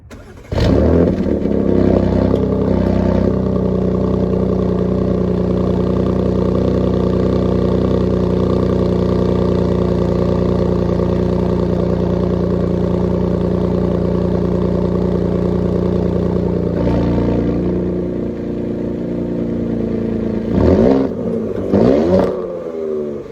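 A 2021 Audi S7 engine fires up with a quick rev through its real exhaust, settles into a loud steady idle for a long stretch, then blips the throttle a few more times near the end.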